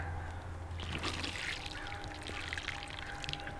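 Water is poured from above onto garden soil where a pumpkin seed has just been planted, a steady close trickle and splash lasting several seconds with no talk.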